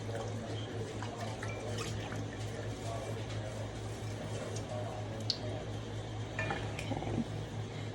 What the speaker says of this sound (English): I'm gonna just stir it.